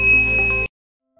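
A bright notification bell ding rings out as a single sustained tone, loud and clear, then cuts off abruptly into silence.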